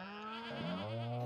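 A goat bleats in the farming video game Stardew Valley, one sustained, wavering cry lasting about a second, loud and close, with no one talking over it.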